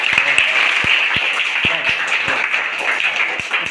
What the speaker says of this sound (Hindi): इसके लिए एक बार जोरदार ताली बजाइए तनु के लिए